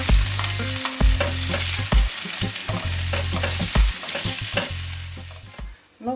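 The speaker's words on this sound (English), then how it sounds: "I'm going to start frying the meat." Steady sizzling of chicken frying in hot oil for a stir fry, with occasional scraping and stirring in the pan and a low electrical hum underneath.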